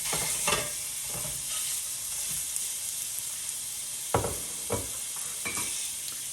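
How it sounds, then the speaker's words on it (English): Bacon sizzles and crackles steadily in a hot pan, with a few sharp clinks of a utensil stirring and scraping. "take a look at this bacon. You hear it sizzling?"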